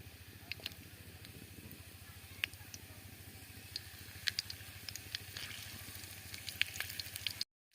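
Whole spices and green chillies frying in hot oil for a village chicken curry, giving a faint, continuous fine crackle and sizzle sprinkled with small sharp pops, with no voices.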